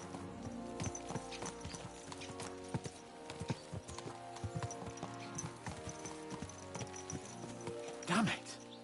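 Horses' hooves clop steadily on a road in Kingdom Come Deliverance 2, a close, even rhythm of hoofbeats with a louder scuffing burst near the end, over quiet background sound.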